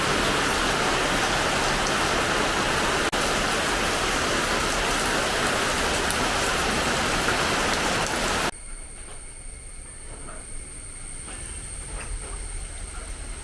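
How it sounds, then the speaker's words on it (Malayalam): Steady, heavy rain hisses loudly for several seconds, then cuts abruptly to a much quieter background with a faint high whine. "രാവിലെ നല്ല മഴയാണ്"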